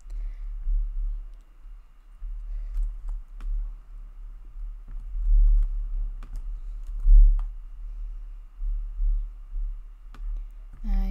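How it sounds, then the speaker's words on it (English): Sparse, light clicks of a computer keyboard as service names are typed into a website builder, faint and scattered over a steady low electrical hum. "we are going to type in three main services that we can provide."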